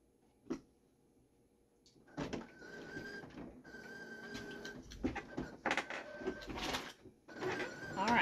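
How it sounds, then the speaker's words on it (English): A home printer feeding and printing the back side of a greeting card, starting with a click and then a run of mechanical whirs, rolls and clunks close by. "So now we're printing the back side of the card."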